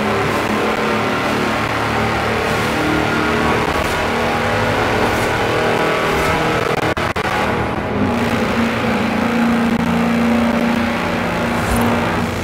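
A fast, record-setting tractor on 54-inch mud tyres races in Forza Horizon 4, its engine roaring loud and sustained throughout with a steady drone and brief shifts in pitch.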